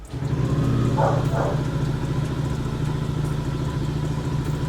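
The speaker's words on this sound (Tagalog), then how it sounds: "So habang pinapainit natin tong motor" Yamaha NMAX V2 scooter with about 50,000 km on the clock idling while it warms up before an engine oil flush, a steady close mid-pitched engine hum with light clatter throughout.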